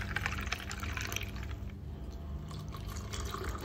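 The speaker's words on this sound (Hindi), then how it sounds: "बस ठंडा पानी डालिए।" Cold water poured into a glass holding ice and a sweet drink paste, a soft continuous trickling and filling sound with faint drips, fairly quiet and close, no talk.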